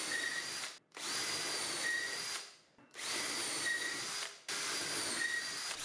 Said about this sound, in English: For this operation, I'm using the Craig shelf pin jig and a 1/4 inch brad point bit